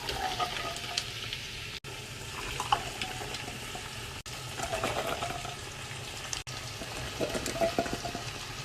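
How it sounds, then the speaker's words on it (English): Beans pour into a pot of five-bean chilli with a wet, sizzling rush and scattered clatters, continuing steadily at moderate volume with a few brief cuts. "I'm going to put all the beans in now."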